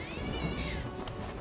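A cat lets out a single drawn-out meow over a soft background wash of rain-like noise, fairly quiet and without speech.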